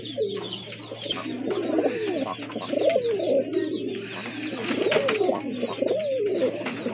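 Pigeons, including a jet-black short-faced pair, coo steadily in overlapping, rounded calls throughout, close and moderately loud, with a low constant hum beneath and occasional brighter chirps.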